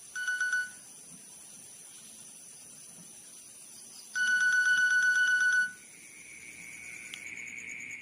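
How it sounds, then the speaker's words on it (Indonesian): A mobile phone alarm rings in a short drama scene: a bright electronic melody plays in two bursts separated by quiet hiss, followed by a softer, different tone near the end. "Alarm HP miliknya berbunyi kala itu."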